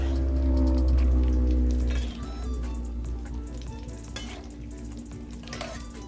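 Spiced Thai omelette frying in oil in a pan: a loud low rumble of heat at first, then a steady crackling sizzle with light clinks of a spatula against the pan, close by.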